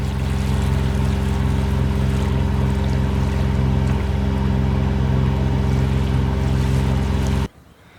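Boat engines motor steadily on the Burnett River at Bundaberg, a loud continuous low drone with harmonic hum and water wash, cutting off abruptly near the end.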